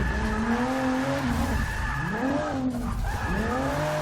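Volvo S60 Polestar sliding sideways through a turn, with loud sustained tire squeals rising and falling in pitch over a steady engine drone, two long skids with a brief dip between.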